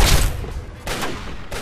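Rifle gunfire in Fallout 3, a quick burst of two or three loud, sharp shots in under two seconds, close and dense.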